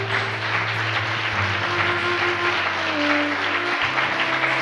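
A church congregation claps during a Sunday worship service, with steady, dense applause throughout and sustained electronic keyboard or organ tones underneath.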